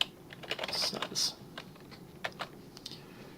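Typing on a computer keyboard while coding a beginner Python Android game with pygame: a quick run of close, crisp key clicks, then a few scattered separate taps, with no talk.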